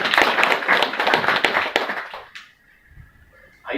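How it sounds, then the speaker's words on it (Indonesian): An audience at a business preview event gives a dense burst of applause, loud and steady for about two seconds before quickly dying away into near silence. "Tepuk tangan dulu untuk orang yang mengundang."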